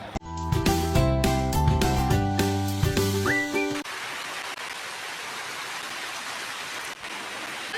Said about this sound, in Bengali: দেখো আসার পর কি বৃষ্টি শুরু হয়েছে।